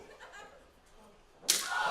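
A loud, sharp open-hand chop slapping a wrestler's bare chest in an arena, a single crisp smack near the end after quiet crowd murmur, with the crowd reacting right after.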